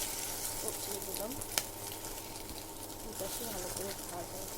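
Egg and malabar spinach fry in hot oil with a steady, close sizzle throughout, a brief sharp clink partway through, and a faint voice in the background.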